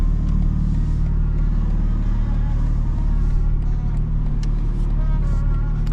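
Loud, steady engine drone from a modified 2025 BMW M4 Competition xDrive with its exhaust valves open, a continuous low rumble holding throughout without pause.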